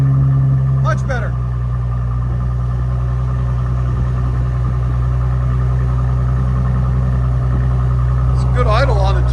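A Mercedes E 400 with a 3.0L twin-turbo V6 idles through its exhaust, a loud, steady low rumble throughout, with brief voices at the start and end.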